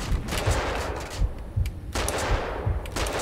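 Gunfire in the video game Max Payne 2: rapid bursts of shots repeat through the scene, loud and close, some louder single cracks standing out, with no speech.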